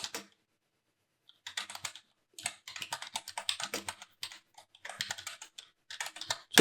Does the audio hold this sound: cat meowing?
no